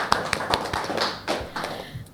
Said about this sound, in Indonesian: Mungkin biar semangat kita tepuk tangan dulu semuanya.